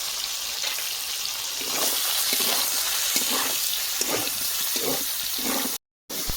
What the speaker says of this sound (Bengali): সোয়াবিন কিন্তু খুব কড়া করে আমি ভাজলাম না হালকা ভেজে নিয়েছি